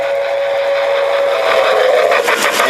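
A toy steam locomotive sounds a steady, loud whistle tone that holds for a few seconds over a rushing hiss, with no talking.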